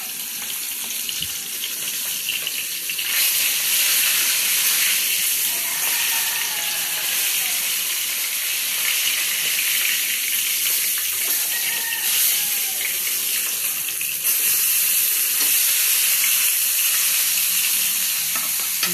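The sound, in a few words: food frying in a pan, sizzling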